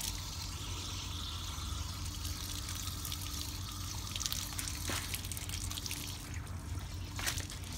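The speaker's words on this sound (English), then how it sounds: "Place to wash your feet when you get back from the beach." Water runs at a foot-washing station by the beach at a Jamaican resort, a steady, fairly faint trickle and splash heard outdoors under a constant hiss, with no speech.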